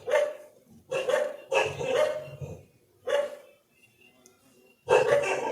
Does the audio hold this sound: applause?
no